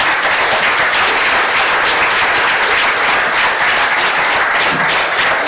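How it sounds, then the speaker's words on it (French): Loud, dense applause from a large conference audience after a keynote, a steady, continuous wash of many hands clapping at once with no breaks or voices standing out. "c'est la directrice générale qu'il faut applaudir"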